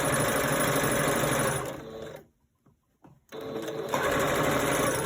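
Sewing machine stitching a fabric face mask, a loud, close, rapid mechanical whirr that stops for about a second with a couple of small clicks, then starts up again.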